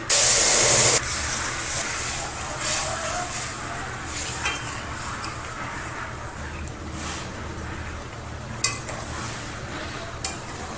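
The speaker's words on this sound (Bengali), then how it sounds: "ফোড়নটা ভাজা হয়ে গেছে এবার আমি তরকারিটা ঢেলে দেবো" Pumpkin greens hit hot oil tempered with radhuni, cumin and bay leaf, giving a loud, brief burst of hissing spray that settles into a steady close sizzle with occasional stirring clicks.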